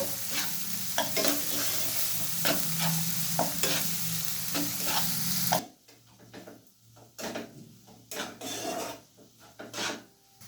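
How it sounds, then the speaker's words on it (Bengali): Chopped onions fry in a pan for a restaurant-style matar paneer. A loud, steady sizzle comes with rhythmic scraping stirs, then drops away abruptly midway, leaving quieter intermittent scrapes and clinks. "পেঁয়াজটাকে আমি 6-7 মিনিটের মতো ভেজে নেব।"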